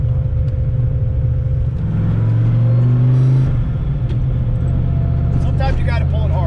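A car with a manual transmission revs and drops as gears are shifted without the clutch, a steady droning engine whose pitch rises, then falls and settles, heard loud from inside the cabin.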